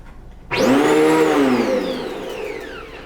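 A Prolux Phantom commercial upright vacuum cleaner, set to low carpet, switches on abruptly and roars loudly up to full power, its whine holding steady before easing slightly, close by.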